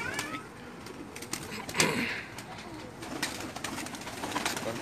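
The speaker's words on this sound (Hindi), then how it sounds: "और उस्ताद नदीम साहब मुल्ला तारा वाले, यानी सब उस्तादों के घर के हैं ये कबूतर" Pigeons coo and murmur outdoors amid a busy ambient hum, with a brief flutter of wings partway through.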